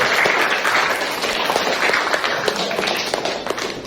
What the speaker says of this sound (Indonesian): Berikan tepuk tangan untuk ketua kelas.